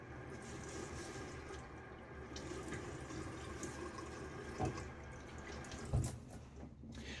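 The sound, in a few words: water rinsing a safety razor at the sink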